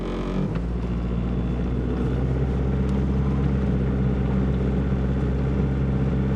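A 1990 Chevrolet Cavalier's engine runs steadily and loudly up close as the car pulls away, with a brief knock near the start and a continuous dense mechanical roar throughout. No voices.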